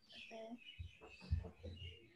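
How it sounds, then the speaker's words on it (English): Birds chirping outdoors, several short bright tweets and calls scattered through a quiet stretch, faint and fairly close, with low background murmur and no clear speech. "Sorry, the birds are going nuts over here."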